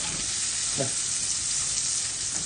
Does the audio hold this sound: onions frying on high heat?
yes